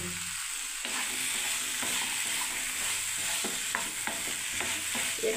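Ivy gourd frying in oil in a pan with mustard seeds, cumin and coriander, a steady bright sizzle with occasional stirring scrapes, close and moderately loud, no voices.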